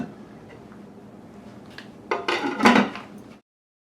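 A lid is set onto a pot of cooking shampoo bar soap, making a short burst of close metallic clatter and scraping after a quiet stretch, then silence.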